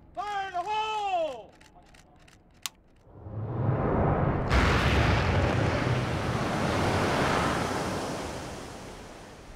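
1,700 pounds of dynamite explode to demolish a 150-foot-high structure, bringing a sudden deep rumbling roar that swells and then holds as a long, broad blast of noise, after a brief shout and some clicks.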